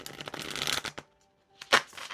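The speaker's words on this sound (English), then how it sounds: "This is a mini deck, by the way, which is making it hard to shuffle, I guess." Mini tarot card deck being shuffled by hand, dense riffling bursts across the first second, a brief pause, then another sharp shuffle burst near the end, close and fairly quiet.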